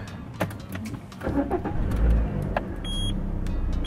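A newly bought car's engine cranks and starts for the first time, then settles into a steady close idle after a few clicks and knocks, with no talking over it.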